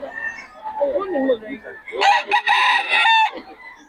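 A Boston Sweater rooster crows loudly and close at a busy Filipino market, one long strained call with clucking and crowd chatter before it.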